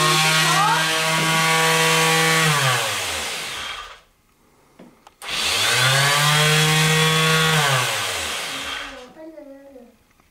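Hand sanding of a wooden card holder by a child, a loud, steady scraping rasp running for a few seconds, breaking off briefly, then resuming just as strongly before fading, with faint voices at the end.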